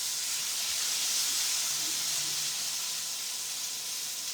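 A pan sizzles on the hotplate of an AGA cooker, a steady broad hiss holding evenly throughout, fairly quiet and close, with no talk over it.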